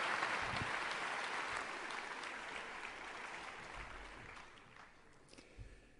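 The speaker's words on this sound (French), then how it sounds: "je vous propose également de l'applaudir" Audience applause for a speaker invited to the lectern at a talk on climate change, a dense sustained clapping from a crowd that gradually thins and fades toward the end, with no talk over it.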